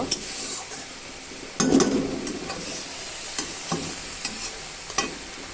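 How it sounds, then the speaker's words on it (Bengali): A ground spice paste of ginger, green chilli, garlic and onion fries in a pan, hissing and sizzling under repeated stirring scrapes. A louder burst of sizzle comes early, then steady frying with periodic spoon clinks. "আর এবার মশলাটা ভালো করে একটু ভাজি করে নেব।"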